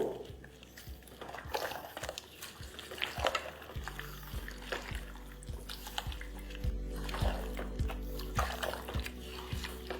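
Fried onions (beresta) being mixed by hand into Hyderabadi-style biryani, giving soft, wet squishing and stirring noises with a low steady hum beneath, close and fairly quiet, with no talking.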